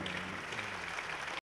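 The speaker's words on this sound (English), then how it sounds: "he deserves a round of applause for that." Steady applause from a crowd at a University of Lagos vice-chancellor ceremony, dense and sustained for about a second and a half before cutting off abruptly.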